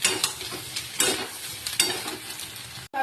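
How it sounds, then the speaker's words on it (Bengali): Soybean chunks and taro sizzle as they fry in a pan, with a steady hiss broken by several scraping stirs, close and clear with no talk. "সয়াবিন গাটি কচু আমার ভালো করে ভাজা ভাজা হয়ে গেছিল"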